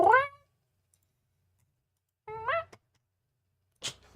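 A cat gives three short meows, separated by pauses of silence, the last one brief and higher-pitched, heard close and alone.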